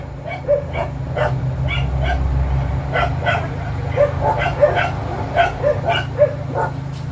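Several dogs bark and yip repeatedly at a distance, overlapping in an irregular rhythm over a low background rumble.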